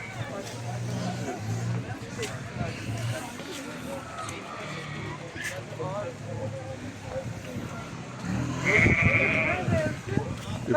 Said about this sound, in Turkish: Koyunlara gittikler gibi geliyor. Ama türü değişik sanki böyle ses.